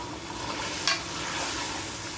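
Masala and cooker-softened goat meat fry in a pan for degi balti gosht, a steady close sizzle with a brief sharp scrape of stirring near the middle, no voices over it.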